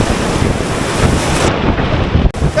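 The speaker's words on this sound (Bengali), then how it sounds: "এখন বেশ বড় বড় ঢেউ আসছে" Large sea waves breaking on the beach at Puri: a loud, rushing roar of surf with heavy wind buffeting the microphone, continuous for a few seconds with no talking.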